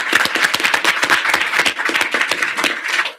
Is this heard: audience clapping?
yes